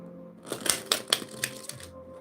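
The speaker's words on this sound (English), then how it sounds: "Right, one more shuffle." A deck of tarot cards is shuffled up close, a burst of quick riffling snaps and flutters lasting about a second and a half between quieter moments, with no talking over it.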